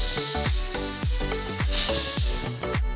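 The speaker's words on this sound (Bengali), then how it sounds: "দেখতে সিটি দিচ্ছে ডালে।" A pressure cooker whistles loudly while dal cooks, giving a steady hissing steam jet that stays strong and close throughout, with no talking.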